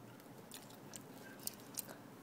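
Someone eats French fries, producing quiet close-up chewing with a few sharper crunchy bites near the end, no speech over it.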